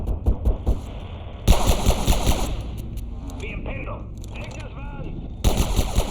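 Order soldiers firing guns at an enemy in Abiotic Factor, with bursts of gunshots cracking in loud clusters at the start and end of the clip and scattered shots and game effects in between.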